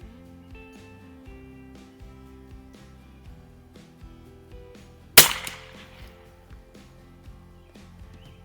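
One sharp rifle shot cracks out from a Savage NRA Match model 19 at a 50-yard range, loud and close, followed by a brief decaying echo, with faint musical tones in the background.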